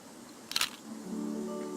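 A single camera shutter click snaps in the video game Nancy Drew: Ghost Dogs of Moon Lake, a brief crisp burst, followed by a soft sustained tonal ambience.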